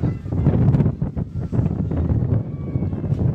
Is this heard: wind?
yes